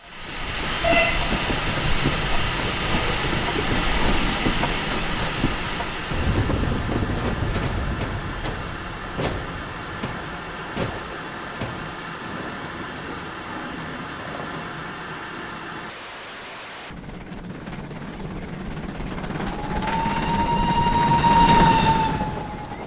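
A GWR 80xx Cathedral class steam locomotive runs in Train Simulator, with a loud, steady steam hiss and rumble that eases off, then a clear whistle near the end, with no talking.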